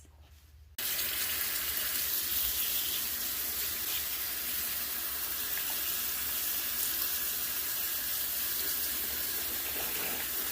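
Tap water runs steadily and fairly close as dyed wig topper hair is rinsed at a sink, a broad continuous splashing hiss beginning abruptly after a brief quiet moment and holding unbroken to the end.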